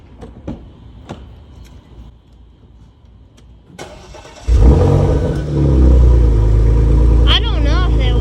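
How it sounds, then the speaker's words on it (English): A Porsche Macan that smokes on start-up cranks and fires, its engine catching loudly midway and settling into a steady idle with a slight rev, after quiet talking and some clicks nearby. "Okay, I'm going to start the car."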